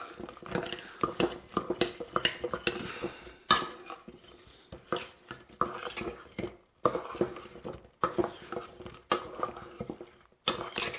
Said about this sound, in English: take the final 12 wings and put them in the sauce and give them a toss around